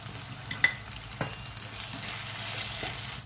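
Sharp burst of sizzling as chopped green chillies hit hot oil, with a few stirring clinks and a steady frying hiss after.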